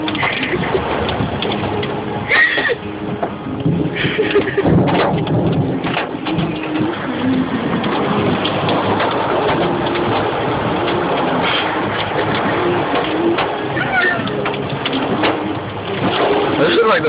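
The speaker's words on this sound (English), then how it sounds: "This is like the worst thunderstorm ever." A heavy thunderstorm heard from inside a car on a roadside in Acadiana: steady loud rain drumming on the vehicle with rumbles of thunder, while people talk anxiously over it.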